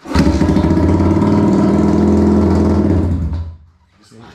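A KTM EXC400 motorcycle engine runs loud and close with a rough, steady idle for about three seconds before cutting off abruptly, followed by a brief quiet.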